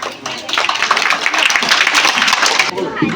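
Children at a school event at an Urdu primary school in Dhamangaon clap loudly in a dense, sustained patter that fills the space, then cuts off abruptly near the end.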